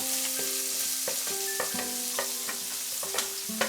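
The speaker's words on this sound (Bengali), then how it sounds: "পেঁয়াজটা দিয়ে দিলাম। মাঝারি আছে এটাকে ফ্রাই করব 3-4 মিনিট।" Chopped onion fries in oil spiced with cardamom, cloves, cinnamon and peppercorns for Bengali fish curry, giving a steady close sizzle broken by repeated stirring scrapes, with no talking.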